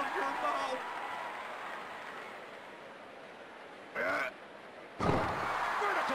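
Arena crowd noise from the PS1 wrestling game WWF War Zone, a steady roar that sits faintly under commentary and swells with brief loud bursts of cheering near the end.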